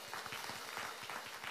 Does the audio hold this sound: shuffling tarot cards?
no